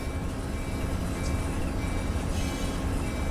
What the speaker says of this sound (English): There's the auto train.